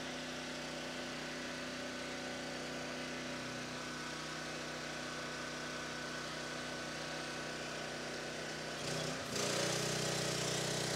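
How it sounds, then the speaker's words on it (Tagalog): A welding generator's engine runs steadily at a close, even drone, with a brief shift in tone and a slightly louder surge near the end. "Itong generator na ito, nakadesign po talaga siya sa pang-welding."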